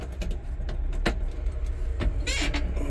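A four-cylinder Jeep engine idles nearby with a steady, low rumble and a few light clicks and rattles over it, with no talk.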